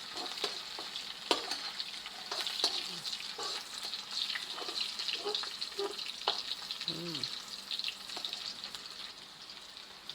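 Garlic and pork stir-frying in hot oil for asparagus with pork, a steady bright sizzle with scattered crackles and the scrape and clatter of a utensil stirring the pan, close by and without talk.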